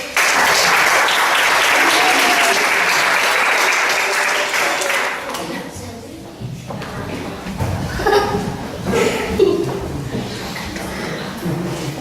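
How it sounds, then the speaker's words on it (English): Applause from a class audience at a school chocolate party, loud and dense for about five seconds, then thinning into scattered claps and chatter with a few chuckles. "Let's give a big applause for them, please."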